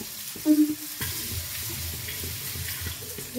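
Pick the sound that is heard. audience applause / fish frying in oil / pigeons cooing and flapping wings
fish frying in oil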